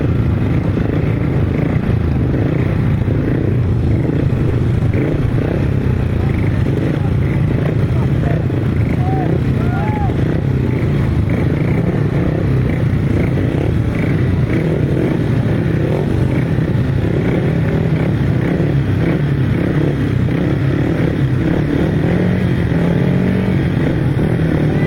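500cc sidecar outfits race on a grasstrack with a steady, loud engine roar that holds at one level throughout, while a commentator's voice talks over it.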